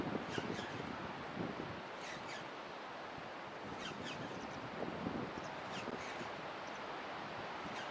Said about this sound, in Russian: Хоть и ветер сильный